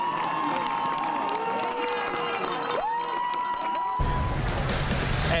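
Crowd along the streets at the Boston Marathon cheering and shouting continuously, a dense wash of voices with whistles and yells throughout, swelling louder near the end.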